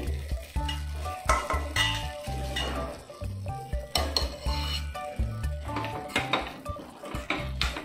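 Dry fruits frying in a pan for coconut laddu, with repeated clanks and scrapes of a utensil against the pan over a low sizzle, close by and rhythmic with no voices.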